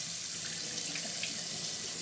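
Tap water runs steadily over a chicken breast being rinsed in a sink, a constant close splashing hiss with no talking.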